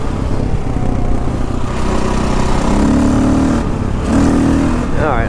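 A KTM 525 dual sport motorcycle engine runs steadily at close range, a loud continuous drone with slight pitch shifts during riding, while someone talks over it.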